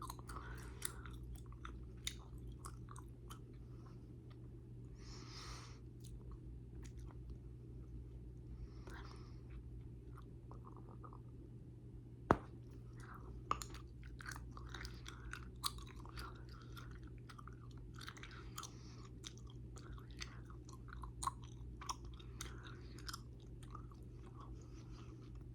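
Close, quiet chewing of grape Big League Chew bubble gum, with soft wet smacks and occasional sharper clicks over a low steady hum, whisper-soft throughout.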